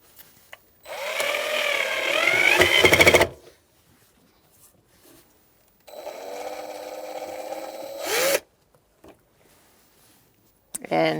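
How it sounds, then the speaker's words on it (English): A power driver runs screws into the fuel pump cover of a 2012-2019 Fiat 500 with a 1.4L four-cylinder, whirring in two clear bursts of a few seconds each and then a short final spurt, with quiet gaps between. "let's line it up and put in our screws"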